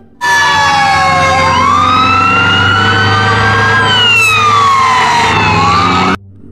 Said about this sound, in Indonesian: Kalau yang ini mobil pemadam kebakaran.